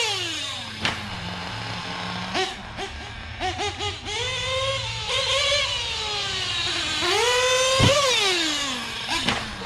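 Nitro RC truggy engine, with a Novarossi 24069 carburetor, revving loudly over a ramp jump: a high, buzzing whine that rises and falls in repeated throttle bursts, climbing sharply near the end, close and alone.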